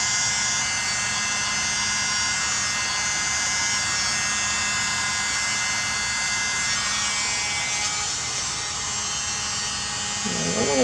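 A mini leaf blower runs steadily throughout, a loud continuous whirring hum blowing pink and silver paint across a Dutch pour canvas, with a slight dip in intensity near the end.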